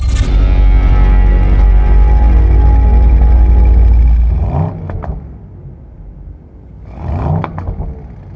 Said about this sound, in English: That is the sound of a 4-litre twin-turbo V8 built to make lots of power